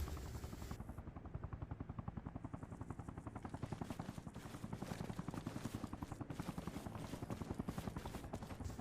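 A helicopter's rotor chops rapidly and steadily in a continuous pulsing thrum, loud and sustained throughout, in the video game Arma Reforger with the DayZero mod.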